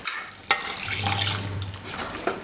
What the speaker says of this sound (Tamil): இந்த பருப்பு வேக வச்ச இதிலே கொஞ்சமாக தண்ணியை ஊற்றி இதில் ஊற்றிக்கலாம்